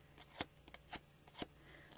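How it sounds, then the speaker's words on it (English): A bone folder roughs up a sheet of paper, giving a quiet series of short dry scrapes and crisp rustles at an uneven pace, close and faint, with no talk. "I'm just going to take it and rough it up with my bone folder"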